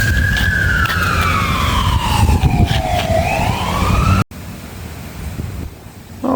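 A fire engine siren sweeps down and back up over steady traffic rumble for about four seconds, then cuts off abruptly, leaving quieter outdoor background.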